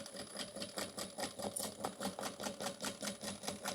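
A sewing machine back stitching over zipper tape while sewing a bag, a steady rapid mechanical whir of needle strokes running throughout, close but fairly quiet.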